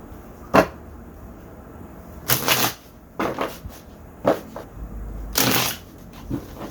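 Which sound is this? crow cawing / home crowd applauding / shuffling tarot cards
shuffling tarot cards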